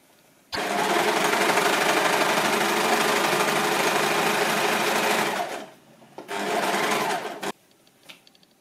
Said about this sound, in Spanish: con la ayuda de la remalladora, pasaremos toda la zona de las costuras que acabamos de coser